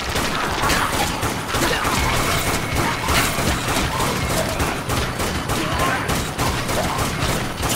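Dense, continuous rifle gunfire from the zombie shooter game Dead Nation, with rapid overlapping shots and clattering impacts that hold steady and loud throughout.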